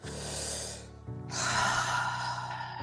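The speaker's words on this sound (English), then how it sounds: "Just take a deep breath with me." A single deep, slow breath drawn in and let out, close and fairly loud, with an airy hiss on the inhale, a brief pause, then a broad breathy exhale, and no talking.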